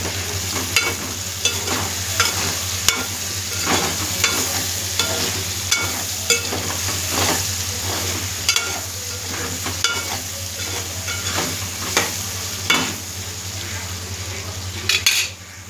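A spatula scrapes and clinks repeatedly against a pan while plantain fry sizzles steadily underneath, in a loose rhythm of stirring strokes; no speech.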